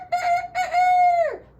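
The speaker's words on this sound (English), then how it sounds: "The rooster, he makes a sound like this." On a grandfather's farm, a rooster lets out a single close, loud crow. Two short bursts lead into a sustained call that falls away at the finish, and there is no talking.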